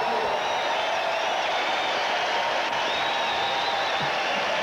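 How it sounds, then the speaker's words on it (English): Crowd noise inside a basketball arena during a timeout at a 1983 Fullerton versus UNLV game, a steady loud roar of many voices with scattered cheering. "Listen to this crowd."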